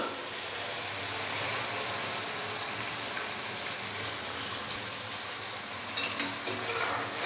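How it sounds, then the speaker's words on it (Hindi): Tomato paste going into chicken already browned with ginger and garlic in a karahi pan for highway-style Afghani chicken karahi, a steady close sizzle with stirring scrapes and a brief metallic clink near the end. "तो अभी मैं इसके अंदर टमाटर का पेस्ट डाल दूँगा।"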